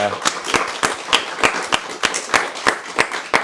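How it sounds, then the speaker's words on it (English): An audience applauds at a youth business event, a run of sharp, evenly spaced claps sounding close and fairly loud, like a small group clapping together. "Can we have a round of applause for them, please?"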